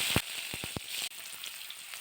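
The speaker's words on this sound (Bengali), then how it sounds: "তেল গরম হয়ে গেছে, আলুগুলো ভেজে নিব।" Potatoes fry in hot oil in a kadai, a steady bright sizzle with several sharp pops and crackles early on, close and loud, with no voices.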